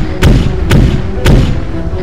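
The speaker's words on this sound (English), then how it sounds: "got a battle cannon going at it." Battle cannon firing in the video game Arma 3, with three heavy booming thuds spaced about half a second apart over a dense, rumbling low background.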